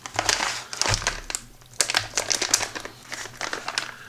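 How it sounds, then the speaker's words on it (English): A foil ration bag with a ziplock, from a Russian RPMK 24-hour pack, crinkles and tears in close, loud bursts of rustling and crackling, broken by short pauses. "because tearing off this foil at the end, I have damaged the ziplock"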